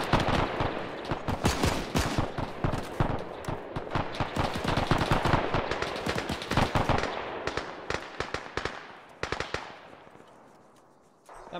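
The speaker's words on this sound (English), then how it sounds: "Machine gun's still trying to kick our asses, watch." Sustained automatic gunfire in the ArmA3 military shooter during a historical campaign battle, dense rapid bursts of loud cracks overlapping for several seconds before thinning into sparse scattered shots and a fading tail.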